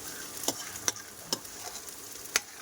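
Okra frying with onion, garlic, ginger paste and panch phoron in a pan as the water cooks off, a soft steady sizzle broken by a few sharp utensil clicks and stirs.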